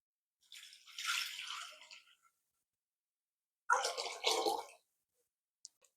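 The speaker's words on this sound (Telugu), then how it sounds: "ఇప్పుడైతే వాటర్ కూడా వేసుకోవాలి." Water poured into a bowl while making chicken wada, in two separate splashing bursts a little over a second each, fairly close and clear, with a faint drip at the end and no talking.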